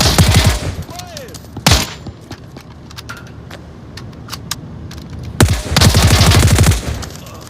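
Gunfire in the VR shooter Onward: bursts of rapid shots open the clip, a single loud crack follows, then quieter scattered shots before a second long, loud automatic burst near the end.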